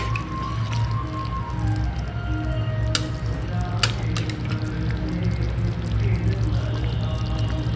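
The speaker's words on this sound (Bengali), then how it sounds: "আর এই গরম জলটা করে রেখেছিলাম আমি, এটা বেশ কিছুটা দিয়ে দিলাম" Hot water poured into chicken kosha with potatoes in a pan, a steady close liquid rush with sizzling and bubbling throughout, plus a couple of brief sharp clinks.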